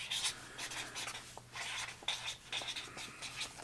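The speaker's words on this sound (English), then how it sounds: "let's write this on here" A pen or marker scratches across a sheet of paper in short, quick bursts of strokes with brief pauses, close and fairly quiet.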